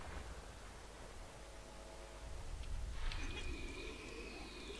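Scanning a gas giant planet in Elite Dangerous gives a steady, ocean-like rushing wash of noise that swells slightly midway, and a thin high whistling tone joins it after about three seconds.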